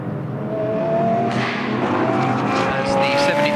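GT race cars head out onto the Moscow circuit toward a sharp left-hander, and a sustained engine drone rises steadily in pitch as a car accelerates. A loud broadband rush of passing cars fills the background.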